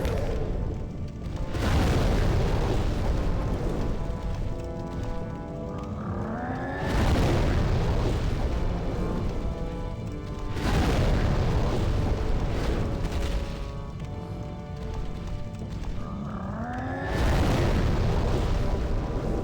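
Flame Lurker, a boss in Demon's Souls, sets off a series of huge, rumbling explosions. Long roaring bursts repeat every few seconds, with sweeping whooshes rising between them.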